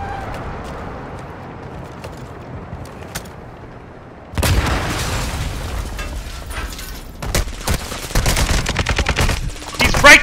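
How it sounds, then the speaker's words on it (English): Rapid automatic gunfire from an opposing squad in an online shooter game, quiet scattered pops at first, then a sudden loud burst and sustained heavy volleys with booms toward the end. "There's another team shooting you."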